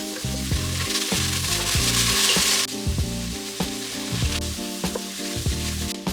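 Red kuri squash soup ingredients with red lentils browning in a pan on low heat, a steady sizzle and fry under repeated scraping and stirring strokes, close and fairly loud with no talking.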